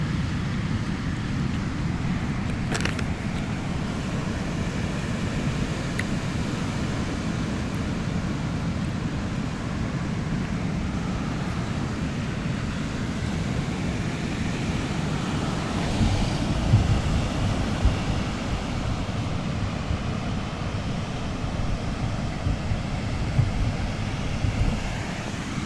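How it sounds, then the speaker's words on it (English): Ocean surf on a Monterey Bay beach roars steadily and loudly for the whole stretch, with a constant wash of breaking waves and wind rumble and no voices. "you guys probably can't hear me that well because the water is like really loud today"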